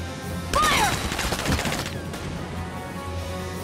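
Gunfire crackles in Valkyria Chronicles 4: a rapid burst of close, loud shots erupts and then gives way to a few scattered reports and a lingering battlefield rumble.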